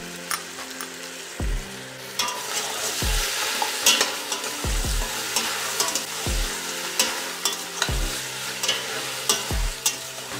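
Mutton with chopped tomatoes and green chilies frying over medium heat, a loud continuous sizzle broken by regular heavy stirring thumps and scrapes about every one to two seconds.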